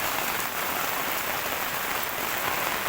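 Heavy monsoon rain falls on a main road in Kerala, a dense, steady hiss of drops striking the surface that stays even throughout, with no voices.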